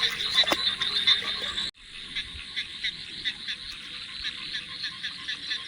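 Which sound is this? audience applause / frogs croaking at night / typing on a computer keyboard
frogs croaking at night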